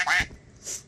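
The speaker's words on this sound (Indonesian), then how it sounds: "Oh, ini suara burung." A duck quacks as a bird sound effect: one loud nasal quack, followed by a fainter, higher second call, close and alone.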